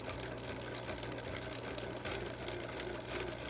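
A sewing machine stitches a seam with backstitching, running as a steady, continuous mechanical whir with a low hum underneath. It is fairly close and holds without pause, with no talking.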